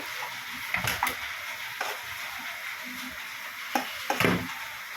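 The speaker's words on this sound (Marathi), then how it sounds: "हे मशरूम ते आता मी जरा ढवळते" Mushrooms fry in a pan with a soft, steady sizzle while a spoon stirs them, giving a few scraping clatters, fairly quiet and close.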